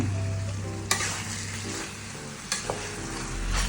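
Chicken cartilage stir-fried with southern Thai curry paste in a pan gives a steady sizzle, with a few sharp spatula scrapes against the metal. No one talks over the close, continuous frying.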